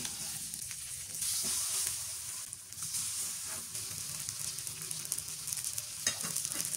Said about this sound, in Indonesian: lanjutkan memanggang hingga semuanya selesai